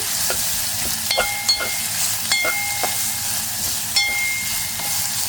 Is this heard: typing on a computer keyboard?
no